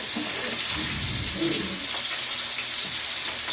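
Ground meat dropped into a hot pan and frying: a steady, loud sizzle throughout, with a brief thump and stirring noises near the start.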